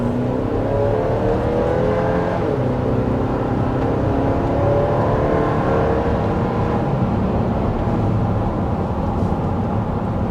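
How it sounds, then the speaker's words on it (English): A 2024 GMC Acadia AT4 SUV accelerating on the highway, its engine note rising steadily under a dense rumble of road and wind noise inside the cabin, loud and continuous with no talking. "taking off on the highway there certainly feels like plenty of power"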